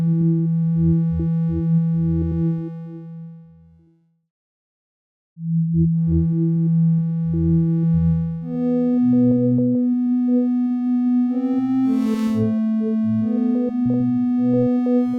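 An ambient synthesizer drone pad in Pigments with LFO modulation, its pulsing, wobbling tones rising and shifting in pitch, briefly dropping to silence before resuming louder and brighter.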